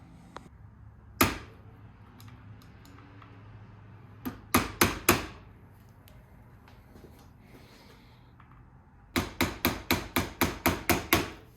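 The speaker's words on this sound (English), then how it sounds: "put a screwdriver down in there, hammer the pin flat on both sides" Sharp metallic hammer strikes on a screwdriver, flattening a pin in a Honda CRF300L handlebar insert: a single hit, then a quick burst of four, and later a steady run of about eight rapid blows, close and loud.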